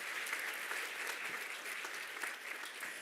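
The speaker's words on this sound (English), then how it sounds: "let's give a big round of applause for our panelists" Conference audience applauding panelists, a steady, even wash of many hands clapping, moderately distant and fairly quiet, with no voices over it.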